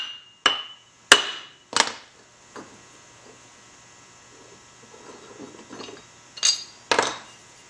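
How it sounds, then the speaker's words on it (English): A small mallet strikes metal in sharp, ringing taps: three spaced hits, a pause with faint rustling, then two more quick taps close to the microphone. "Just take something light, like a little mallet. Just"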